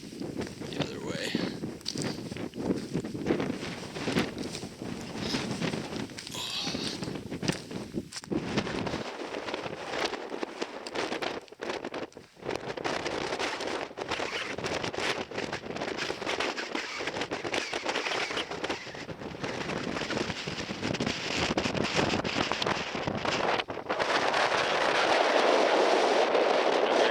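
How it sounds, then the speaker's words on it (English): Chilly wind gusting across a mountain pass on a backpacking trail in Yoho National Park, roaring and buffeting the microphone in uneven bursts, with footsteps and a person talking at times. "Chilly wind."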